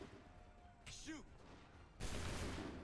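A musket volley fired in Assassin's Creed III, a sudden loud crackling burst that breaks in after a shouted command and a brief whooshing effect, with the blast ringing on to the end.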